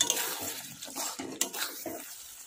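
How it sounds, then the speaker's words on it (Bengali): Vegetable curry finished with chopped coriander and garam masala powder being stirred in a pan, a series of close scraping and clinking strokes of a spoon against metal at an uneven rhythm, with no talk. "এবার নেড়ে দেব।"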